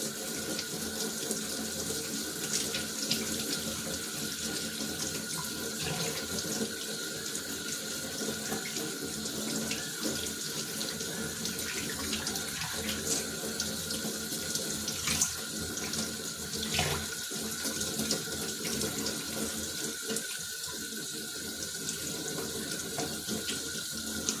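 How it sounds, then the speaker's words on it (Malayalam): A tap runs steadily while hands are washed at a sink, a continuous close hiss of splashing water with slight fluctuations and no talking. "അപ്പോൾ നമുക്കിനി കൈയൊക്കെ ഒന്ന് കഴുകാം"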